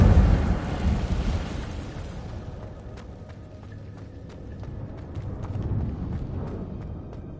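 Fire spell cast in Hogwarts Legacy: a loud whooshing burst that rumbles and fades over several seconds, with faint crackling and small clicks trailing off.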